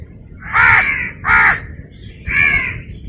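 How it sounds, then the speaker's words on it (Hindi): Crows caw from trees beside a cotton field, three loud harsh calls spaced about a second apart, close and clear over a low outdoor hum. "परिंदे चहचहा रहे हैं दरख्तों पे"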